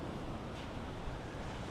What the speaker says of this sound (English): Those little waves crashing in.